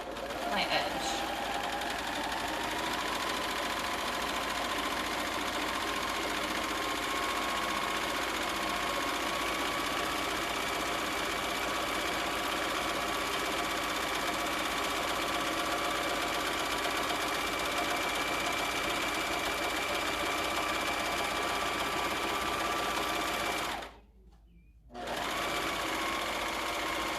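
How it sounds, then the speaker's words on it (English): A serger sewing machine runs steadily for nearly the whole stretch, overlocking and securing a woven fabric edge with a fast, even mechanical whir, stopping briefly near the end before starting again. "we're gonna go zippity zip with the serger"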